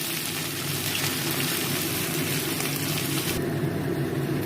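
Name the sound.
spices and ginger paste frying in hot mustard oil in a wok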